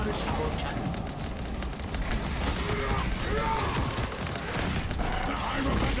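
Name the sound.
cannon fire in a video game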